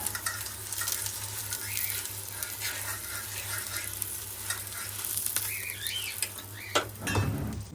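Ghee sizzles in a pan with a steady low crackle and hiss, soft and close, broken by a light clink of a utensil near the end.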